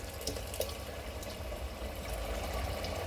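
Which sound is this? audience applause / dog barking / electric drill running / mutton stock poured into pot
mutton stock poured into pot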